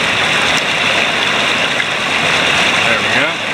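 Water rushes steadily around a portable hydro water wheel being set into a stream, a constant broadband wash that stays loud and close throughout.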